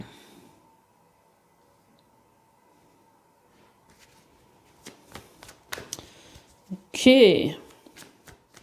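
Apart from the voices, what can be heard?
shuffling tarot cards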